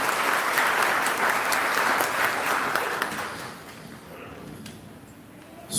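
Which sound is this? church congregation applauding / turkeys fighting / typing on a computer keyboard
church congregation applauding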